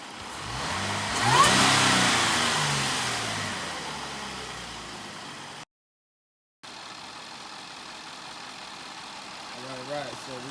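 A 2016 Jaguar XF 3.0L engine fitted with a Mina Gallery intake kit revs up loudly in one swelling burst, then settles to a steady idle after a brief gap, with a short voice near the end.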